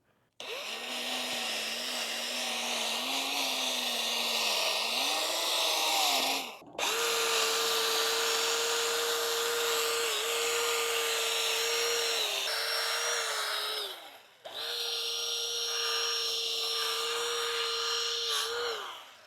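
A handheld Milwaukee polisher works the metal of a cut solar arch on a catamaran, its steady high motor whine running in three long passes. The pitch shifts as load changes, and the whine drops out briefly between passes.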